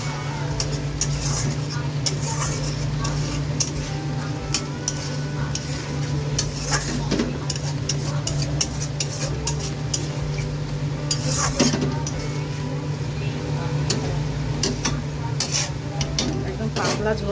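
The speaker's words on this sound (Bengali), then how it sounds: "এই দেখো মাংসটা কষছে" Mutton sautéing in a pot for handi mutton, with soft sizzling and scraping, clinking stirs against the pot over a steady low hum, continuing throughout.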